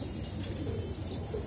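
A racing pigeon that returned from a 165 km race coos softly, close by, in a short, steady low murmur with no talk.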